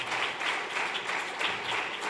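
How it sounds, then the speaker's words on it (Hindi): Audience at a Hindi gospel film release event applauding, a steady patter of many hands clapping at moderate volume, pulsing slightly, with no talk over it. "जरा जोर से तालियां बजाएंगे।"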